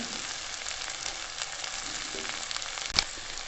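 Onions fry in a pan for egg bhurji, giving a continuous close sizzle and crackle at an even level, with one sharp clink of utensil against pan near the end.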